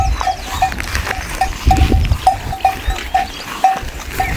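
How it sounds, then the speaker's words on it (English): Goats and sheep let out out in the open, with short repeated calls over a low rumbling background, fairly close and with no talking. "So the goats and sheep are now out."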